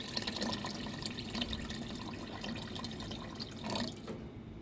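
About 1 to 1.5 liters of water pours steadily into a pot of Persian plum and celery stew ingredients, a continuous splashing trickle at moderate distance that cuts off near the end.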